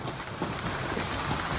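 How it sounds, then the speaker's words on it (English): Hail pounding a parking lot during a severe storm in Coleman, a dense, steady broadband clatter like heavy rain on pavement and car roofs, loud and continuous with no voices. "This is the hailstorm happening in a parking lot."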